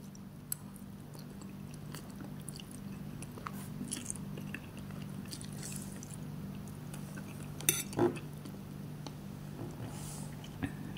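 Pancit noodles being eaten, with soft chewing and biting sounds and a faint clink of utensils against a dish, close and quiet over a steady low background hum.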